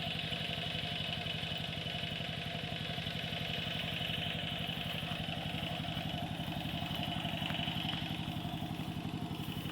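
Engine-driven 3-inch floating-shaft water pump mounted on a farm tractor runs at a steady idle-like putter, a continuous mid-close rhythmic chug with no speech.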